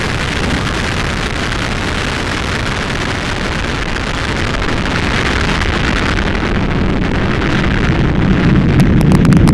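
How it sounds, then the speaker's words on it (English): A United Launch Alliance Atlas V rocket's RD-180 main engine roars at liftoff for the NROL-79 launch, a loud, steady, broadband rumble with crackling that builds slightly toward the end. "We have ignition at the RD-180 main engine."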